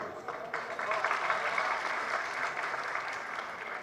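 An audience at a spiritual discourse applauds softly, a low, continuous patter of clapping with a voice speaking over it.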